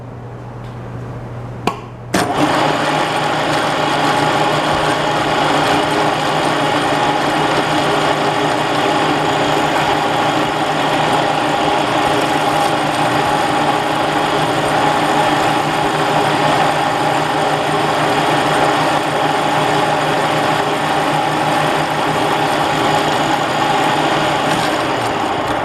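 A loud power drill whines continuously for a long stretch after a brief start, a steady grinding drone with no pauses as the bit drills metal.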